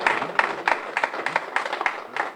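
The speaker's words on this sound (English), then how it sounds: "let's have a round of applause for Babe Ruth" Crowd applauding Babe Ruth at a baseball gathering in St. Petersburg, a steady patter of many hands clapping for a couple of seconds with no talk over it.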